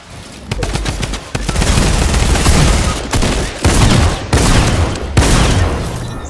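Sustained rapid automatic fire from a drum gun in Fortnite, a dense, loud stream of shots with short breaks between bursts, continuing across the whole stretch.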